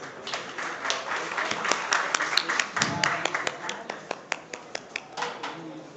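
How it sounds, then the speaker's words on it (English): Audience members at a physics conference session clap, a thin scattered round of applause that thins into separate claps, with talk over it at moderate distance. "Please everyone give a big round of applause."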